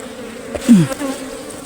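A single bee buzzes past close by during honey collecting in a coffee plantation, a short droning whine that dips in pitch and fades within a moment.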